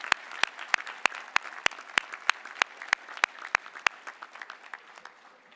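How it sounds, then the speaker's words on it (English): Commencement crowd at a university graduation applauds for graduates' parents and families, a steady patter of clapping with sharp individual claps standing out, moderately distant and fading toward the end. "let's please give the parents and the family members a big round of applause"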